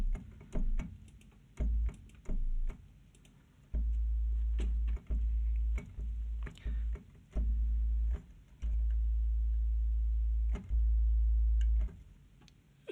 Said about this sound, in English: this is the sine wave, just a simple note